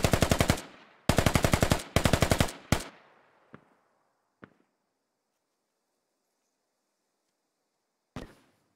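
Machine gun tracer fire in the tactical shooter Squad, loud and close: three fast bursts and a short fourth, then a few scattered single shots echoing away, a long quiet gap, and one final burst.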